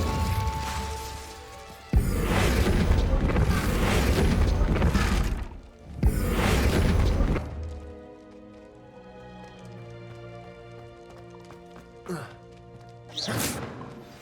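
Incendio fire spell cast in Hogwarts Legacy, loud crashing whooshes and impacts in two thick bursts followed by quieter tonal game sounds, with brief voices.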